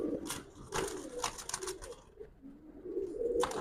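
Giribaz pigeons of a Palla line cooing in a loft, soft repeated coos with scattered chirps and a brief flutter, fairly close, without talk.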